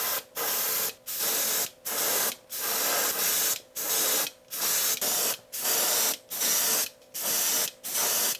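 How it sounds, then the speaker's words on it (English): Black spray paint applied to the back of a homemade Rattle Trap fishing lure: about a dozen short, loud aerosol hisses close to the can, each burst separated by a brief pause in a steady rhythm. "So now to really enhance it, I'm gonna paint the back black."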